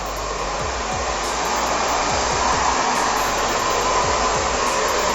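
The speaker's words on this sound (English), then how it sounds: "So I'm just kind of blow drying the mohawk section up on both sides." A hair dryer blows steadily and loudly while hair is styled into a women's pompadour or quiff, a constant close rushing airflow with no voices.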